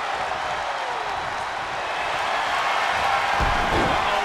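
A virtual arena crowd in the WWE 2K23 wrestling video game applauds steadily, a faint, even wash of clapping that swells slightly toward the end.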